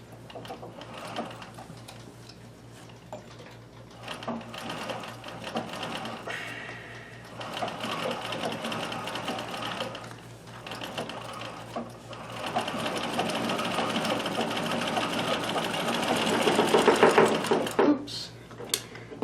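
A Singer Circular Stitcher sewing machine runs steadily while stitching fabric, a continuous close mechanical whir with rhythmic needle clatter that builds louder toward the end, with a stand vibrating against a wall.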